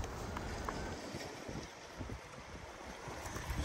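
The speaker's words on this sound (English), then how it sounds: "It was a very windy day, as you can probably hear." Gusty outdoor wind buffets the microphone in a low, rumbling roar at a rock heap on a fossil hunt, fairly faint overall with uneven swells and no speech.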